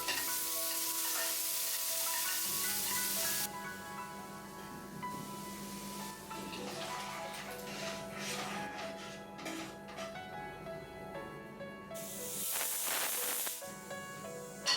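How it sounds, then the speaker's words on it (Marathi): Spices for a dal tempering crackle and sizzle steadily in hot oil, a continuous hissing fry with occasional stirring, close and loud throughout. "तर तोपर्यंत मी वरण फोडणी टाकून घेतेय."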